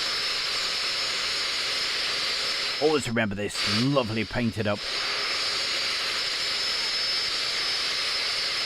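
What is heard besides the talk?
Belgian Alpha Jet aircraft engine flying overhead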